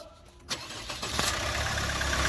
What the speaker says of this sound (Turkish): Çalıştır arabayı bu. Bas.